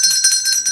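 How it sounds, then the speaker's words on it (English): A bell rings in rapid, bright, shimmering strokes, loud and close, repeating several times over a short burst. "Where is my bell?"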